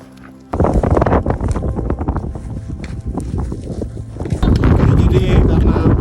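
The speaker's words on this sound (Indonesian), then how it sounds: "Jadi karena badainya masih terus berlangsung" A fog-and-rain storm on Mount Rinjani, with loud gusting wind battering the microphone in a constant rough roar that swells louder near the end.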